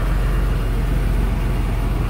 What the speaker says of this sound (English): We'll go ahead and crank it up so you can hear the engine